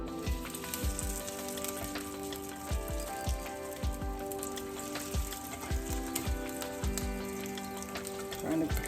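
Homemade lump crab cakes seasoned with paprika sizzle steadily in hot oil, a dense crackle broken by sharp pops and occasional clinks, close and continuous with no talking.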